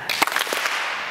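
An audience joins in clapping during a children's lesson at an awards show, with a few sharp claps leading into a short stretch of scattered hand claps.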